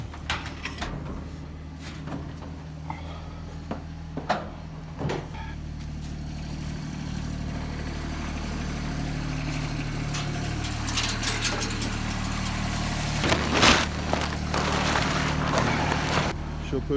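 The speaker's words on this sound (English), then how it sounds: "Mom's getting the tractor right now." A farm tractor engine idles with a steady low drone at a farmyard goat and hay pen, running continuously under people talking, with occasional clanks and door sounds.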